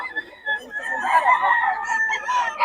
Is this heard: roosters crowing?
yes